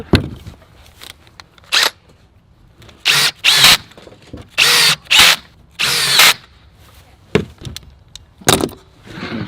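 A power drill drives security screws into a wooden miter joint in several loud, separate whirring bursts of one to two seconds each, separated by short quiet pauses and small handling knocks.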